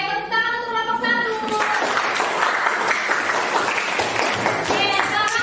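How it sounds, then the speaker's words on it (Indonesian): A class of students applauds group 1 in a school lesson, steady clapping filling the room while some voices and tonal chatter sound over it at the start and end. "tepuk tangan untuk kelompok 1"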